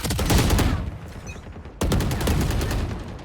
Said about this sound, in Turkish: Mermi, ooo leş gibi mermi attık arkadaşlar